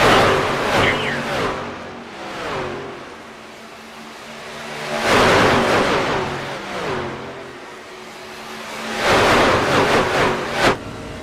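NASCAR trucks race at Daytona, their roaring engines swelling and fading in three loud pass-bys about four seconds apart.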